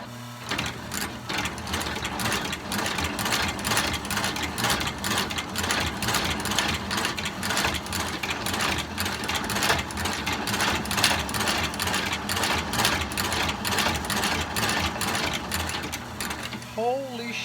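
A Mephisto industrial sewing machine under restoration runs and stitches steadily, a loud, continuous rapid mechanical clatter throughout, close up, with a brief voice near the end.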